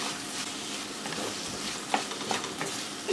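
Sliced onions sizzle and fry steadily in hot oil in a pan with a pinch of turmeric and salt, a continuous close crackle with a few soft stirring knocks and no talking.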